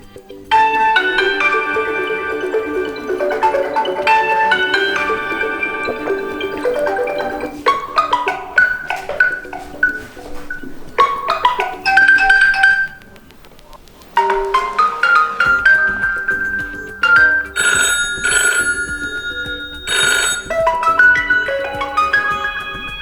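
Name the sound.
default phone ringtone playing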